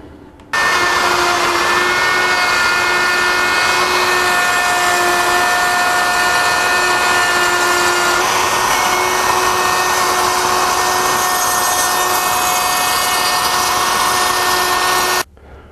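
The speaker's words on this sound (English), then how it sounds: "To make the cut, we just hold the half rounds against the edge of the rounded piece and move the router around" A handheld router cuts along the rounded edge of a wooden piece, guided by half-round fence accessories, giving a loud, steady high-pitched whine that runs unbroken for about fifteen seconds, near and alone.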